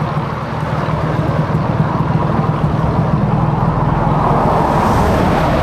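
A standard Yamaha 125ZR two-stroke motorcycle pulls away hard on launch, its engine and wind noise building into a loud, steady roar.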